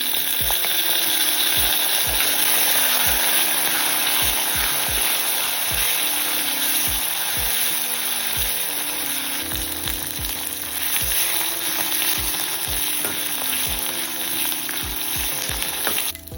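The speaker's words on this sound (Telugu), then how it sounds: "ఒక 100 గ్రాముల పచ్చిమిర్చిని వేసి వేపేసుకోవాలి." Green chillies sizzling and frying in hot oil with cumin, mustard and fenugreek seeds for a village-style tomato chutney, a steady loud crackle with repeated stirring knocks throughout and no talk.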